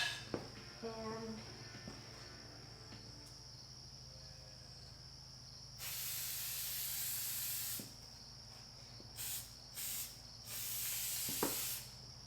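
Several bursts of loud, broad hissing spray from a can of Super 77 spray adhesive, some long and some short, separated by quieter pauses with faint background noise.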